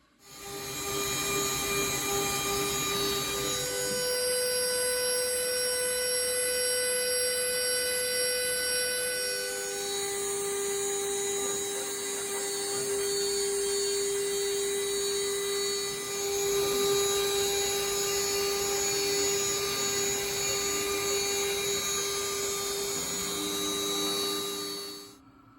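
A CNC machine cuts chassis rails for an SCX24 micro RC crawler, a loud sustained whine of shifting tonal pitches from the spinning spindle running steadily for the whole stretch, close and unbroken.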